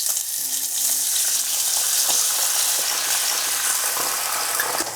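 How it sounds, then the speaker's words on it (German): A pork chop sizzles loudly in a hot pan right after being deglazed with vinegar, a dense, continuous hiss and crackle with scattered pops, close and steady throughout. "Und jetzt kommt das Geheimnis mit Essig ablöschen."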